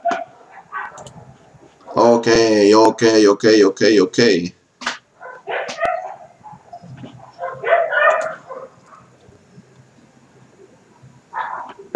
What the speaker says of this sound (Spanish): Ay, esos perros,